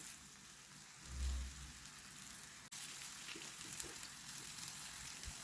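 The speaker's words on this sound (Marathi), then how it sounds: "आणि आता शॅलो फ्राय करून घेऊया" Brinjal slices shallow frying in oil in a pan over a medium flame, giving a steady, soft, rain-like sizzle throughout with a brief low thump near the start.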